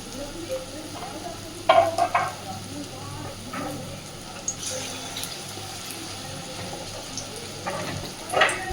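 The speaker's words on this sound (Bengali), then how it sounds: "এইবার মোচার কোফতাগুলোকে ছোট ছোট করে ভেজে নেব" Small banana flower koftas deep frying in hot oil give off a steady close hiss and sizzle, with a few scattered clinks and soft scrapes.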